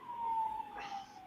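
A siren wails outside, its steady tone dipping in pitch as it passes at moderate distance, with a faint voice underneath.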